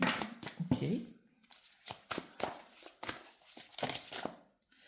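Tarot cards being shuffled up close in a series of crisp riffling bursts and taps with short pauses between, alone and fairly quiet.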